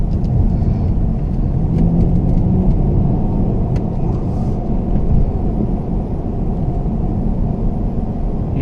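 A BMW F30 3 Series with a newly installed quiet turbo, its engine giving a steady, loud low rumble and whir from inside the moving car, with no turbo whine standing out.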